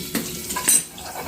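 Ridge gourd vegetable cooking in a kadhai after a turmeric and garlic tempering, with a couple of brief clinks of a spoon stirring in the pan over a faint sizzle.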